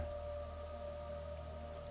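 Steady rain falling through a forest, a dense even hiss of drops at moderate volume with a constant tonal hum beneath it, no voices.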